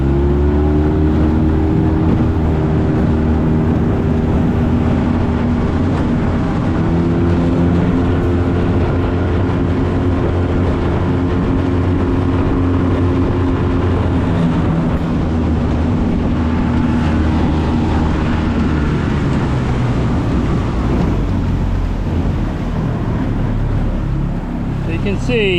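Boat outboard engine running steadily at speed after a motor height adjustment, a loud, constant droning hum with waves and wind rushing alongside and a slight pitch drop near the middle.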